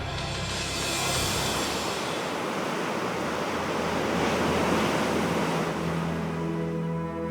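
Rough ocean waves and strong wind roar continuously around the ship Ocean Diamond crossing the Drake Passage toward Antarctica, a dense, steady wash of surf and gusting air with no voices.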